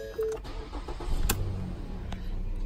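A 2014 Ford Fusion SE cranks and its engine catches, a short starter burst followed by a steady low idle hum close by, with no talking.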